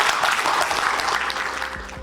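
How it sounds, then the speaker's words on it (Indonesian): A crowd at a regional police ceremony claps together, a dense, continuous burst of applause lasting about two seconds that tapers slightly toward the end. "Tepuk tangan buat kita semua."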